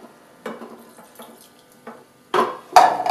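Water is poured in uneven splashing bursts into a pot of prunes for Moroccan chicken with prunes, quiet gaps between pours and louder gushes toward the end.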